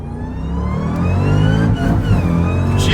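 A Hennessey HPE850 in track and sport mode with paddle shift accelerates hard in first gear, its engine note climbing steadily and loudly up the rev range at close range.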